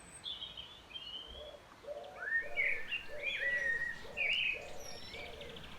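Small garden birds at a seed feeder made from weighted egg cartons filled with sunflower hearts give quick, high chirps and tweets, while a steady, low pigeon-like cooing repeats underneath.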